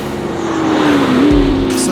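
McLaren P1 hypercar accelerating hard on an open road, a loud, near engine note rising steadily in pitch with a brief deeper boom near the end, heard from inside the car.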